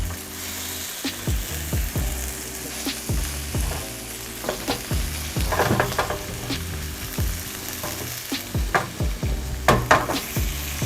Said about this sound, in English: That's just a very satisfying sizzle.